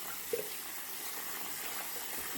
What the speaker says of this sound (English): I'm just rinsing out my wash rag really, really well again.